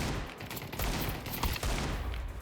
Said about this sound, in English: The 2 headshots with the Deagle, mint.